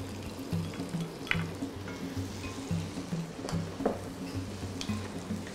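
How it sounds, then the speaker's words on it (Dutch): Chopped onion frying in melted butter in a home kitchen pan, a steady close crackling sizzle with faint scattered pops and light utensil clinks, no voices. "Dit laat ik bakken totdat hij glazend is."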